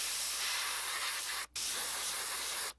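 Aerosol spray paint hisses steadily onto a lipless jerkbait lure with fabric on it, in two long continuous bursts split by a brief pause, close and loud, with no talking.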